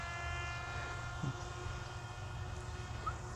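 Parrot Disco fixed-wing drone flying in hybrid mode, a steady droning motor hum with faint harmonic whine held evenly throughout, moderately distant and low in level with no talk.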